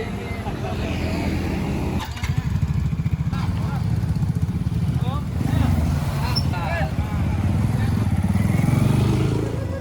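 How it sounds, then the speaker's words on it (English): A motorbike engine rumbles steadily, close and continuous, while a voice talks over it, on a ride to meet wild honey harvesters in the Indonesian forest. "grabbing his gear and freshening up, Reggie travels by motorbike to meet up with the harvesting team"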